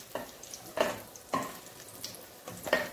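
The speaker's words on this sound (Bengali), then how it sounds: "এবার বেগুনগুলো ভাজা হয়ে গেছে" Eggplant pieces fry in oil in a pan, a soft background sizzle punctuated by four or five sharp scraping strokes of a spatula at roughly half-second intervals.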